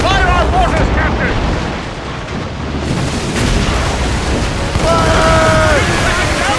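Heavy booms and rumbling blasts from mortar fire in Assassin's Creed Rogue roll through a busy naval battle scene, loud and sustained, with wind and sea noise and voices shouting beneath them.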